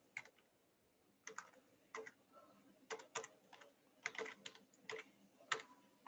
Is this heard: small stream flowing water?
no